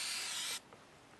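A can of spray paint marking trees hisses in one steady burst lasting about half a second, then cuts off to quiet outdoor background.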